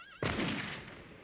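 A single sharp rifle volley fired by soldiers cracks out loud and close, then rings off in a short fading echo.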